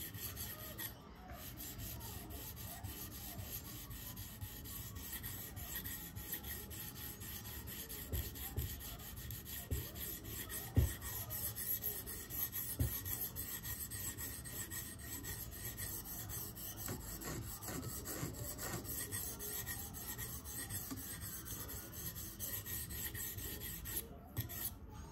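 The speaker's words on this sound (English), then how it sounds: "polishing the apex." A Spyderco Police 4 knife in K390 steel has its edge apex polished on an abrasive, giving faint, continuous rasping strokes with a soft scraping texture throughout, quiet and close with no voices.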